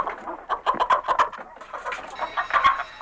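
Hens clucking in a farmyard, a busy run of short, rhythmic clucks and squawks that come in bursts close by, with a steady background murmur and no talking.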